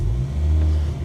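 A Ford Focus RS MK2 fitted with a 3-inch turbo-back Milltek exhaust fires up, giving a short, loud, deep rumble that settles into a low burbling idle.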